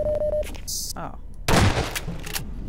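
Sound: shotgun firing in video game Half-Life 2

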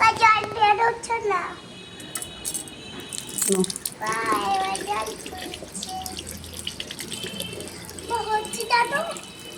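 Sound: water running while washing hands

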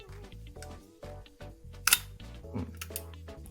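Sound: camera shutter firing at 1/60 s speed

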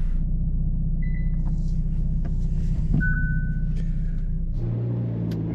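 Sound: 2022 Hyundai Elantra N driving on a racetrack

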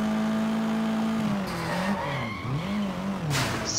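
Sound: stolen car skidding in the Sleeping Dogs video game

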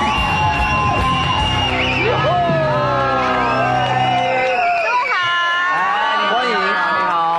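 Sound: studio audience applause and cheering welcoming guests

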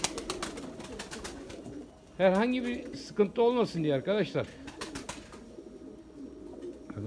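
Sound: pigeons cooing, male calling to female

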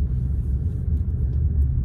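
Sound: new car driving on the road

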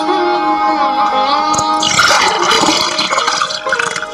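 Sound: water sloshing sound effect, as if drinking at a riverbank

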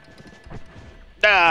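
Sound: horse hooves clip-clopping in video game Undead Nightmare

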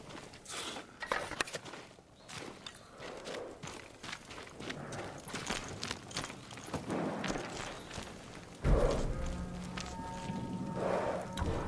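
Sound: horses walking, from a video game

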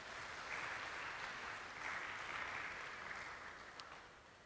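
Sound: applause

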